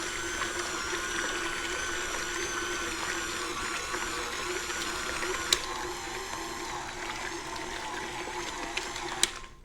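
A stand mixer churns cream into butter, whirring steadily with a high mechanical whine while buttermilk sloshes and splashes inside the bowl, with a couple of sharp clicks near the end.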